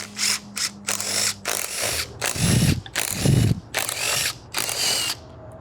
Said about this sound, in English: So we're going to use our 1/4 inch socket, and we're going to remove all 7 of these bolts.